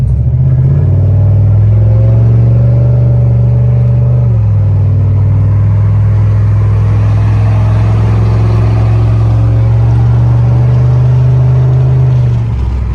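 Straight-piped Pontiac Bonneville GXP accelerating in cold weather, a loud, steady low exhaust drone that climbs in pitch, dips briefly, then holds a deep rumble for several seconds, heard close with no talking.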